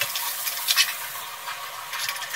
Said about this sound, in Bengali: গ্যাসের ফ্লেমটা জোরে দিয়ে পেঁয়াজটা ভেজে নিচ্ছি।